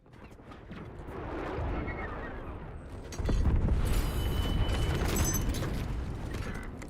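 A sticky grenade detonates in a multiplayer shooter video game, a heavy booming blast that swells into a sustained rumbling roar of explosion and debris, loud and close.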